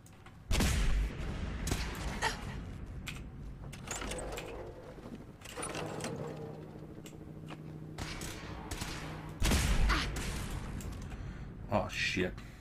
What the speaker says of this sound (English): That Protectron there. I'm gonna shoot him down.